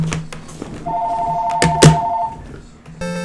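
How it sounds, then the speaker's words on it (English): A telephone rings near a game of the arcade title Joust, a steady electronic ring tone lasting about a second and a half over background game sounds, with no talking. "Phone call."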